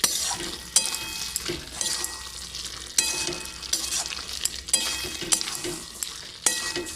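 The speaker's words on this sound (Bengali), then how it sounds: "ভালো করে ঘেটে নেবো তো" A pumpkin and chickpea curry with potatoes being stirred in a pan, loud repeated scraping strokes every second or so over a continuous sizzle.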